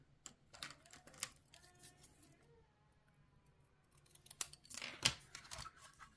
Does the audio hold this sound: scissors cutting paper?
yes